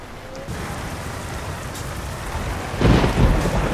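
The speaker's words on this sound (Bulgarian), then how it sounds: "Так гърми ме, направо ме е страх." Thunder and rain in the truck driving game Euro Truck Simulator 2, a steady heavy downpour with deep rolling thunder that swells louder toward the end.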